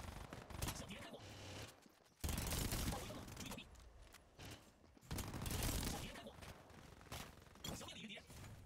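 Rapid automatic gunfire rattles in sustained bursts during a firefight in the shooter game 高能英雄, with brief pauses between volleys and a faint game voice in the mix.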